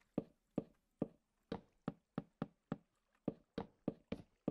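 Blocks are broken in Minecraft with a run of sharp, evenly spaced knocking taps, about a dozen dry hits in quick rhythm, clear and alone.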